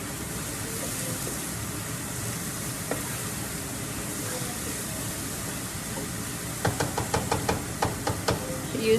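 Onions and garlic sizzle steadily in a pot of oil, a continuous soft hiss with a few light wooden utensil knocks near the end.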